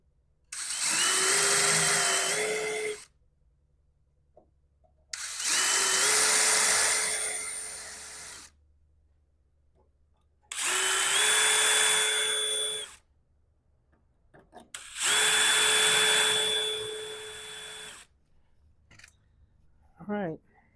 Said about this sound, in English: When you drill these, start out with a really small bit and slowly work your way up.